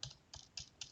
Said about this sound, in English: I'm going to start typing in our symbols